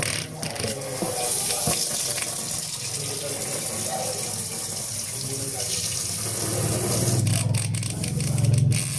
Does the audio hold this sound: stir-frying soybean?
no